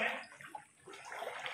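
Flowing water at a public cemetery flooded by high tide in Balagtas, a soft, faint steady wash with slight swells, heard alone.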